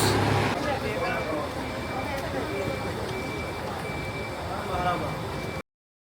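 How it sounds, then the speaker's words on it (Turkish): A bus pulling in at a stop, its engine rumbling steadily and fairly loud with a reversing beep in the mix, under nearby chatter. "Geldi bizim otobüs."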